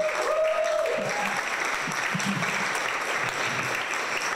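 Comedy club audience applauding, a continuous, moderately loud wash of clapping from a room full of people lasting several seconds, with faint voices and a whistle mixed in.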